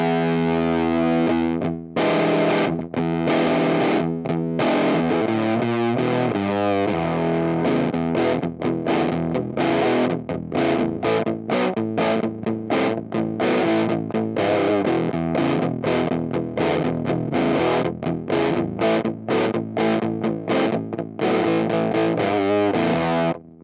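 Heavily distorted electric guitar through a Riff Pedal Co. Peach Fuzz pedal, all controls at noon, plays fuzzy chords and riffs, thick and saturated, with short gaps between strummed phrases.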